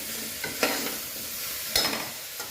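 Onion and potato being stirred as they fry with ginger garlic paste for a masala, with scattered scraping strokes of a spoon over a soft sizzle, no talk.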